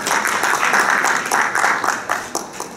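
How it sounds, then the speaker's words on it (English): A conference audience applauds IIIT during a discussion at ISNA 2014, a short burst of clapping that swells and then thins into scattered claps over a few seconds. "Let's give them a big round of applause"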